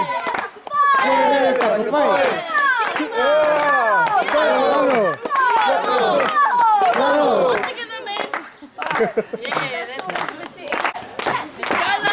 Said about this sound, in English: We're going to speed that clap up, so clap, clap, clap, and catch.